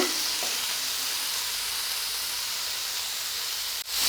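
Ooli fish sizzling and frying in a pan while being stirred lightly, a steady loud hiss of hot oil with a brief scrape near the end and no talking.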